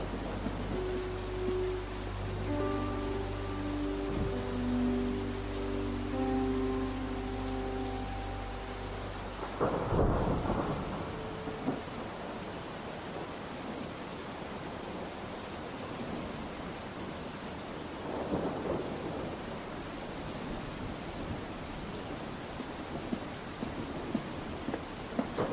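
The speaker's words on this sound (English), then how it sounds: "I walked out into the storm." Thunder rumbles through steady rain during a storm, with a loud deep crack near the middle that gives way to continuous rainfall and fainter rolling thunder, with no voices.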